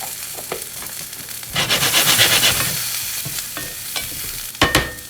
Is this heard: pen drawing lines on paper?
no